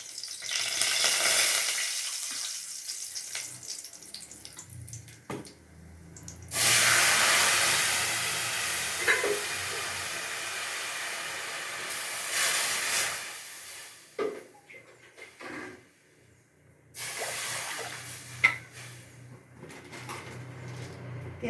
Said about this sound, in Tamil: தண்ணி கொதிக்கட்டும்.